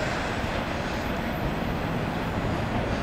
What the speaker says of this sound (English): 213 isn't the biggest train, but is what it is.